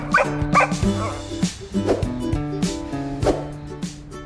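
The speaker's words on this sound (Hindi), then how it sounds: "चुप, भौंको मत।" A dog barks and yips repeatedly over a musical background, close and fairly loud, with a few whimpering notes between barks.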